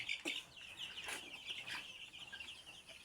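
A flock of Egyptian Fayoumi chickens on a farm clucks and chirps continuously in soft, overlapping calls, a few sharper clucks standing out, heard at a moderate distance with no talking.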